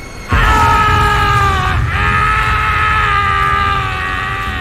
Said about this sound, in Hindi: तभी चट्टान के उस पार से हमें एक खून जमा देने वाली चीख सुनाई दी।